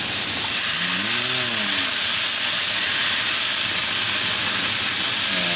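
Peppers, bamboo shoots and deer meat stir-fry for Chinese pepper steak in a smoking-hot pan, giving a loud, continuous broadband hiss and sizzle up close, with a brief tonal whine near the start and again at the end.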